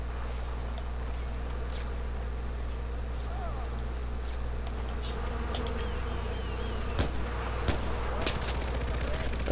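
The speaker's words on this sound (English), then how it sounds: "There's a lot of bees up there." An angry swarm of bees buzzes continuously in Far Cry 4 after a hive is shot, a dense drone under steady low game rumble, broken late by a few sharp gunshot-like cracks.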